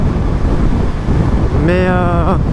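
Wind roars steadily past a Suzuki GSX-S 1000 roadster with no windscreen. Loud, constant buffeting fills the whole stretch, and a rising engine whine breaks through near the end.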